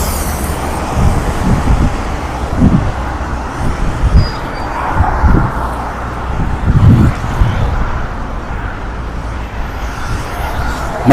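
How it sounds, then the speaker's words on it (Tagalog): Steady, loud roadway traffic with many cars, buses and trucks rumbling past one after another on a dusty roadside, with a faint murmur of voices in the background. "Ang daming sasakyan."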